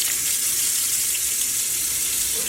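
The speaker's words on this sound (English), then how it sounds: "Let's wash our leftover yarn." Leftover tie-dyed yarn being rinsed under a running tap, a steady, close hiss of flowing water that continues unbroken throughout.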